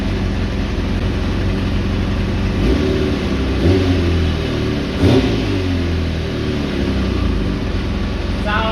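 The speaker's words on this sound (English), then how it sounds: "Let's just keep this thing fired up and get to the proper temperature, the engine." A Kawasaki ZX4 motorcycle engine, a scrap bike warming up, runs loud and close, with a constant rumbling idle and a brief rev in the middle.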